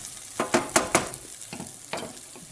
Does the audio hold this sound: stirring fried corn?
yes